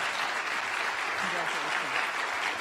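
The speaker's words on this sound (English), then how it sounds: "He's going to round of applause." Audience applause for a graduating senior at a high school senior recognition night, a steady dense wash of many hands clapping throughout, fairly distant in a large room.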